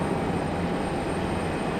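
United airliner taxiing toward the runway at Raleigh-Durham airport, a steady distant engine rumble and hiss held evenly through a short stretch with no talking.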